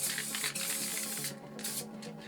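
Molotow Coversall water-based acrylic spray paint hisses from a can in bursts, a long close spray that breaks off, then shorter puffs of black paint near stencils.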